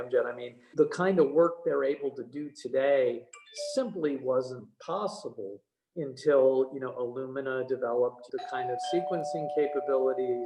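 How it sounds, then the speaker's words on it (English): A doorbell chimes indoors, heard as a steady tone in the last couple of seconds beneath continuous close-up male speech during an interview. "Sorry about the doorbell."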